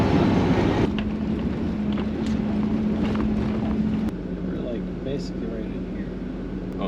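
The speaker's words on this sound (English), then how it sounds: "So we're driving in across that little lake thing right now." Trooper off-road truck crossing a shallow lake, with a steady engine drone and water churning throughout, up close and loud; voices talk over it.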